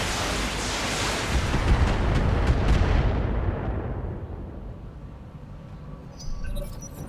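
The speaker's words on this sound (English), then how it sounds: "That is a lot of missiles." A barrage of missiles fired by mechs in the video game Battletech roars as a dense, loud rumble that swells, then gradually fades over several seconds, leaving faint tones at the end.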